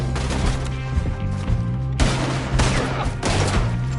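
Gunfire in Red Dead Redemption 2, loud rapid overlapping shots in bursts with a booming low end and a few brief gaps.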